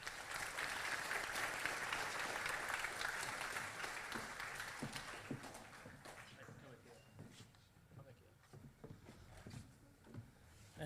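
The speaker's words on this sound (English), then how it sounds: "Could we all please give them a round of applause?" Audience applause fills a school academic awards assembly, a dense wash of clapping that stays loud for several seconds and then thins out into scattered claps with a few footsteps.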